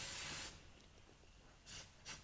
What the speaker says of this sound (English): So we're going to give it a bit of a shake and you're going to just lightly spray